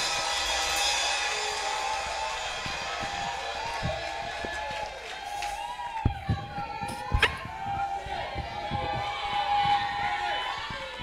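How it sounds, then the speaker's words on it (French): A church congregation at a worship service cheering and acclaiming, a sustained crowd roar with scattered shouts and a few sharp claps, speech mixed in. "on acclame pour la gloire de Dieu"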